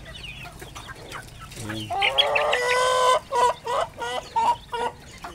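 Heritage chickens and roosters cluck and call nearby in a backyard flock, with a drawn-out crow-like call followed by a string of short, rhythmic clucks; a voice speaks briefly.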